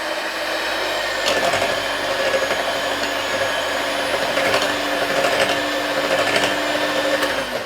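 A handheld electric beater whirs steadily for several seconds while mixing dhokla batter, a continuous motor drone with small shifts in pitch and faint scraping against the bowl. No talk is heard.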